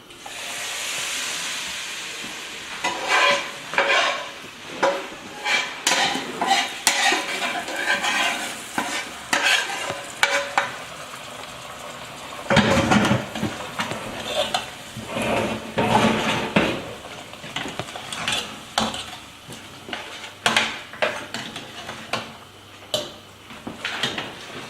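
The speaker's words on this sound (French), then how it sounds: "on va mettre la casserole au feu et mélanger notre pâte d'arachide." Peanut paste stirred in a pot over the fire gives steady scraping and sloshing strokes with a sizzling hiss underneath, close and fairly loud, continuing with brief pauses and no talking.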